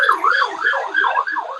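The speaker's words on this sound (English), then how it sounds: "Excuse the sirens." An emergency vehicle siren wails loud and near, its pitch rising and falling in quick repeated sweeps that stand alone without talk.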